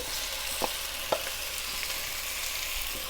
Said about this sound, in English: Okay, time to add the beef back in